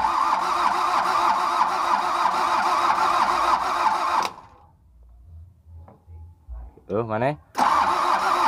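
A diesel engine that had a broken timing belt idles loudly, then cuts out into near silence. A short burst of starter cranking follows, and the engine catches and runs again, with a voice briefly heard.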